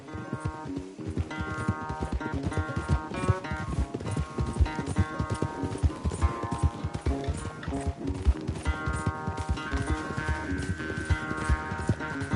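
A horse gallops in Red Dead Redemption 2, its hoofbeats running steadily under a continuous music score through a race, with no speech in the passage.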